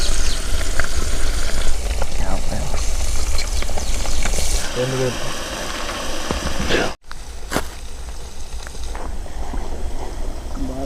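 Freshly caught fish fry in hot oil with a loud, steady, close sizzle that runs nearly throughout, dipping briefly once. Faint voices come through now and then.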